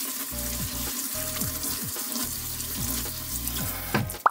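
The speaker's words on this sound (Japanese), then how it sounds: "一旦すすぎます。" Tap water runs steadily into a bathroom washbasin while a washable paper towel is rinsed under it during spring sink cleaning, a continuous close splashing with a few clunks and a brief louder knock at the end.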